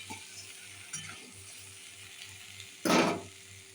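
Paneer and cauliflower sizzle in a pan for a Bengali vegetarian curry, a low steady fry with faint scraping, then a short loud sizzling burst near the end.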